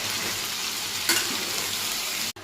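Paneer cubes sautéing in a pan for a white cauliflower, potato and paneer curry give a steady, close sizzle with a brief stirring scrape partway through, and no voices.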